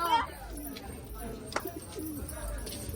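Pigeons coo close by in a steady low murmur while people talk over them throughout.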